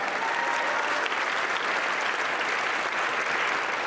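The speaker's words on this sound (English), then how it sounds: "let's have a round of applause for all of them and the great job they have done" Applause from a convention audience at a Netroots Nation gathering, a dense, uniform roar of many hands clapping, loud and unbroken from start to finish.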